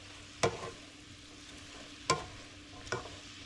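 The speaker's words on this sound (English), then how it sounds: "we're going to let the onions cook down a little bit, and then by then the peppers will be soft enough" Peppers and onions for fajitas frying in a pan under a low, steady sizzle, broken by three short scraping stirs, close and quiet.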